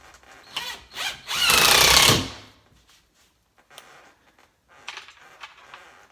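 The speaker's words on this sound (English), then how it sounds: "put some screws in this bad boy to hold it up" A power drill drives screws into wood while a man cave is being updated, with a loud whirring burst of about a second after a couple of shorter revs, then a few faint brief taps and clicks.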